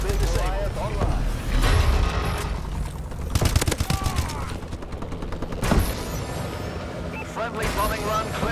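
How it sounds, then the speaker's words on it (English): Heavy gunfire and explosions from an Advanced Warfare game battle, with bursts of automatic fire, booming impacts and crashes during a friendly bombing run, loud and continuous, with game voices speaking over the din. "Friendly bombing run clearing the way."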